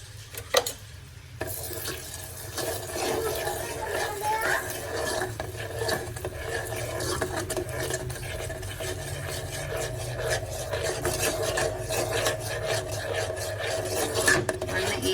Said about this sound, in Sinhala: මේ වගේ පාට වෙනස් වීගෙන එනකොට ටක් ගාලා මේක හැඳි ගා ගන්න ඕනේ.